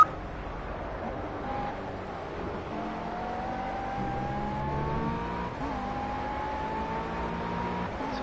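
A GT3 race car engine in the racing game Project CARS holds a sustained drone that climbs steadily through the gears, with a brief dip at a gear change, continuous and fairly close.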